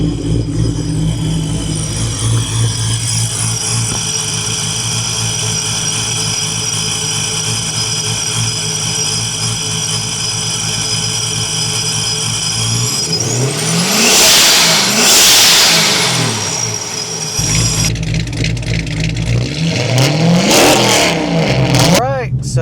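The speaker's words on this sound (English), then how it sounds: "Give it a little rev." A 5.7 HEMI V8 runs loud and close, idling steadily, then revs up and settles back, and a second rise follows near the end. Someone talks over the engine noise.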